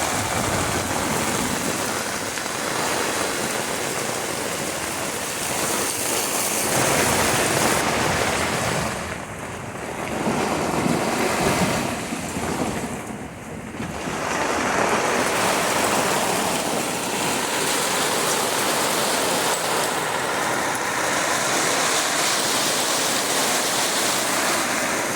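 Water pours and drums steadily onto an Oztent RV3 Lite tent, a dense, loud rushing wash that dips briefly around ten and thirteen seconds before continuing without talk.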